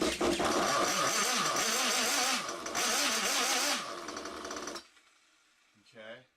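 A Kyosho 1/7 scale 2WD nitro RC car engine starts with a loud, harsh buzzing rattle lasting several seconds, then cuts out abruptly, followed by a short burst of talk.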